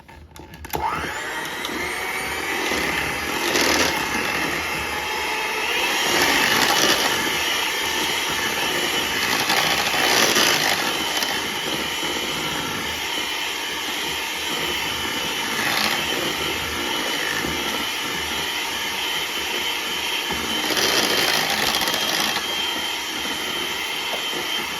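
An electric mixer whirs steadily and loudly for the whole stretch, beating green pistachio pudding cake batter in a bowl, its motor tone holding even with slight swells as the beaters work through the mix.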